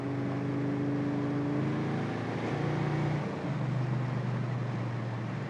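A 1966 Ford Mustang Fastback engine drones steadily from inside the car, its pitch stepping and shifting as it pulls, with constant road rumble and no talking.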